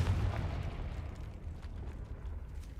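An explosion from a Confringo spell in a video game, a loud low boom at the start that rumbles on and slowly fades across the clip.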